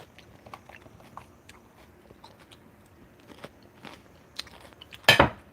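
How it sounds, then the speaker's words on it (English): A raw pepper bitten and crunched in a home kitchen: faint crisp chewing crackles through most of the clip, then one loud close snap of a bite near the end. "I'm gonna try it with this raw pepper."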